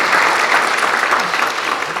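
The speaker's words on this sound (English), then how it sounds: "Let's give them a round of applause." A live audience at a 2021 speaker series event claps for a community college presenting sponsor, a dense, steady round of applause filling the whole stretch at close, even loudness with no voices over it.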